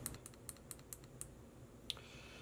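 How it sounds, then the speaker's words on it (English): Fire button on a Deep 2-in-1 cartridge and pod vape device pressed five times in quick succession, producing sharp, faint, close plastic clicks in an even rhythm, with one further click trailing after a pause. "You turn on the device by clicking the fire button 5 times."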